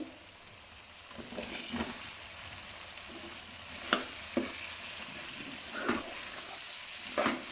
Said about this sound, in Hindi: अभी हम आलू को थोड़ी देर के लिए भूनेंगे।